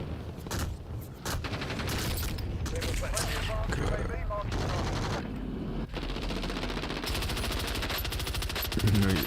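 Submachine gun fire in the video game Warzone rattles in fast bursts, loud and repeated with brief pauses, under other game effects and voices.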